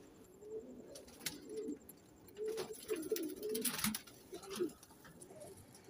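Pigeons coo nearby in soft, low, throaty bursts, repeating irregularly over a faint background hiss.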